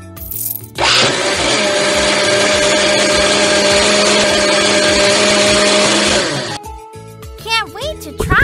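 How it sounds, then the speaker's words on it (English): A blender in a children's animal hair salon game whirs loudly and steadily for about five seconds, then cuts off, followed by cheerful chimes and a child-like voice. "Turn on the blender."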